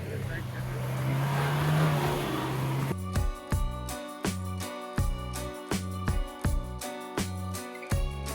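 A car engine idles in snowy Manali traffic, a steady close rumble with road noise for about three seconds, then rhythmic music with sharp beats takes over.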